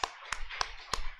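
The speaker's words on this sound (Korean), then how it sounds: "영광의 박수 올려드리겠습니다." Scattered hand claps from a congregation during a Korean Sunday church service, a few distinct sharp claps spaced about a third of a second apart, fairly faint and brief.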